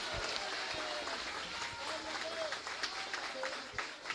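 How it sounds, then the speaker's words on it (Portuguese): A church congregation applauding during a worship service, a dense, steady patter of many hands filling the space, with voices talking and calling out over it throughout. "Se você crer, dê um aplauso bem forte ao Senhor."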